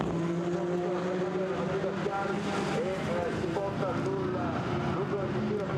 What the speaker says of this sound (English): Porsche accelerates through the 718 iteration of the Cayman